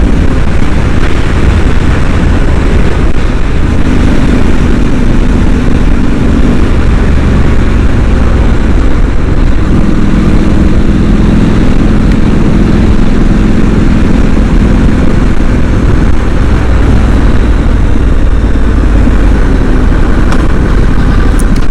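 A Triumph Street Scrambler 900 motorcycle engine runs loud and steady at close range, a continuous dense drone out on a country road with no talk over it.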